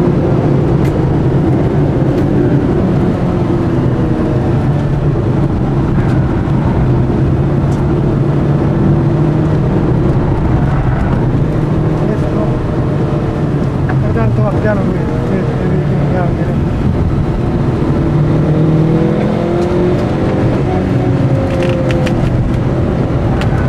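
A Mitsubishi Eclipse worked hard around the Magione circuit, its engine droning steadily and loudly from inside the car across the whole stretch with shifting pitch and road noise, while voices talk intermittently over it.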